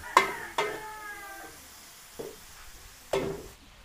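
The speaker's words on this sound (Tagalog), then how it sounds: "sangkutsahin lang po natin itong ating sahog hanggang sa siya ay mag-brown, light brown" Pork spare ribs with bits of fat sautéing in a pan for adobo, heard as a few separate clanks of a utensil against the pan over a faint sizzle, close by.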